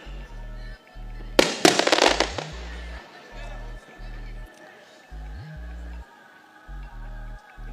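A sharp cluster of firecracker and fireworks explosions crackles loudly for about a second during an outdoor political speech about MQM, Muhajirs and Karachi, over a low rhythmic hum and faint crowd.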